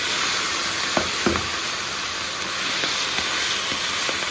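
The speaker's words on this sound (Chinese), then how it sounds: "继续煎啊。" Chicken pieces fry in a wok for a home-style northeastern Chinese red-braised chicken, giving a steady close sizzle with a few soft pops and crackles and no talking.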